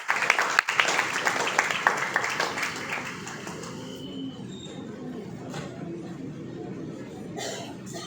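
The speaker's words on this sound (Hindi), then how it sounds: "जोरदार तालियों के साथ स्वागत कीजिए" Audience applause welcoming a speaker at a school felicitation programme for SSC toppers, with a burst of clapping in the first half that fades into a quieter hall with coughs and murmuring.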